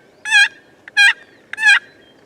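Three loud gobbles from a wild turkey, evenly spaced, each a rapid rattling burst, close and clear against quiet surroundings during a spring hunt in Colorado.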